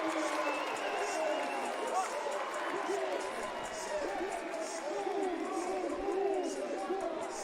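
A lacrosse crowd in a Denver stadium roars after a goal, a dense, steady wash of cheering and crowd noise held at the same level throughout.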